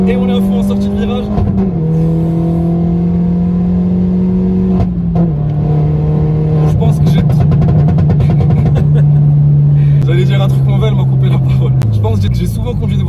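A Peugeot 208 GTi engine revs hard and climbs in pitch as it accelerates at full throttle out of a corner, loud and close, with gear-change steps along the way.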